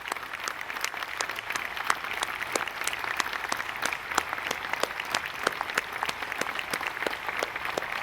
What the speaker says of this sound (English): if you'll join me in a round of applause for that hero